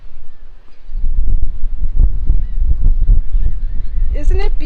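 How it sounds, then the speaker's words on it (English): A goose honks repeatedly over gusty wind noise and low rumble on a Virgin Islands shore, with a sharper call near the end. "Another bird. There's tons of them."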